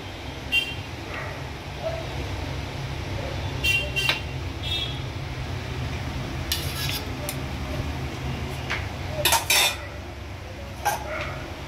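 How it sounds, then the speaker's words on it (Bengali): A spoon stirs a shahi paneer curry mixture with paneer cubes in a pan, giving scattered metallic clinks and scrapes against the pan over a low background rumble. "এবার এটাকে ভালো করে নাড়িয়ে মিশ্রণটাকে একটু ফোটাতে হবে"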